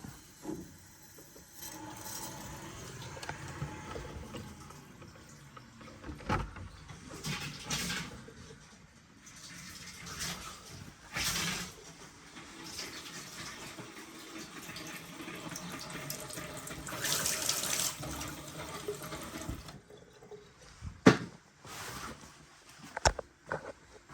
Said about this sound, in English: Tap's still running on that side just in case.